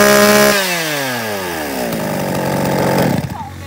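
Sinewa chainsaw from a lot of used Japanese saws, run during a shop test: the engine revs loudly, its pitch dropping and shifting as the throttle changes, then roughens near the end as a close, continuous two-stroke whine.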